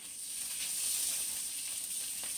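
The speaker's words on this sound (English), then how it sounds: "I put some butter in a pan and just heated it up a little bit. I'm going to put half of those peppers and onions in there with it." Peppers and onions sizzle in a pan of hot butter, a steady soft hiss with faint crackles, continuous and fairly quiet throughout.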